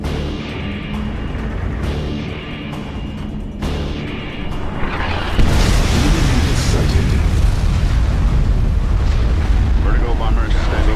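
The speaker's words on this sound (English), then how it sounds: "Nuclear missile launched." A nuclear missile strike detonates in Command & Conquer 3: Tiberium Wars, a loud, rumbling blast that builds from a rising roar into a sustained, heavy boom lasting several seconds.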